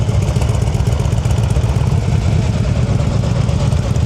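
A motorcycle engine shakes and labors at very low speed during slow-speed riding practice in North Carolina, close up and steady, its low rumble near stalling and running without a break for the whole stretch.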